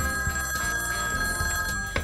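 A telephone bell rings steadily and loudly over a busy sustained tone from a sketch-comedy scene about a dating phone service, filling the moment with no voices.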